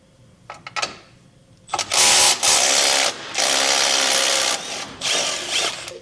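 A power tool backs off 15 millimeter bumper nuts on a 2024 Chevrolet Colorado, with a few short clicks first and then several loud, close, sustained whirring bursts separated by brief breaks.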